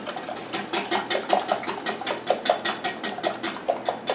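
Egg whites with a pinch of salt being beaten by hand for meringue, a quick steady rhythm of whisk strokes clicking against a bowl, close up and alone.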